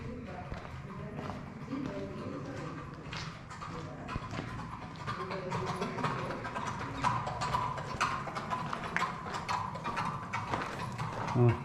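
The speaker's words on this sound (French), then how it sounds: "Bruit de chevaux garanti." Horses' hooves clip-clop repeatedly near castle stables on Öland, a steady run of clear clacking steps over a busy background with faint voices.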